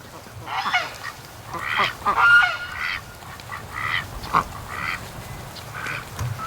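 Geese honk repeatedly from out on the water, a flock calling in irregular bursts at moderate distance, with some ducks among them and outdoor ambience underneath.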